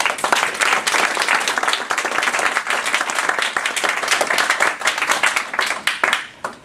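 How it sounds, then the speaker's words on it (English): Audience applause welcoming a poet at a literary conference reading, loud, close, dense clapping from a crowd that holds steady, then thins and fades at the end. "Please give her a warm welcome and applause."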